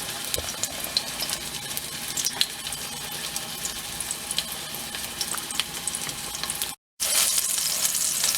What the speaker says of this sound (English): I'm gonna put it in the pan to cook